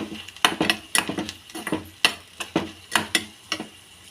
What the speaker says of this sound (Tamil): இப்போ இதிலேயே நம்ம எடுத்து வச்சுருக்கிற கொத்தமல்லி தழை, புதினா இதையும் நல்லா வதக்கி விட்டுருங்க.